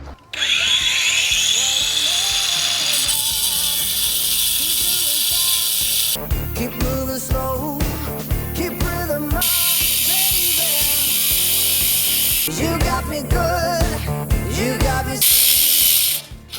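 A cordless Grosser GAG 20 angle grinder cuts a granite-chip curb, a loud whining motor with harsh grinding and rattling as the disc bites in, load shifting in surges and bogging down repeatedly, close by.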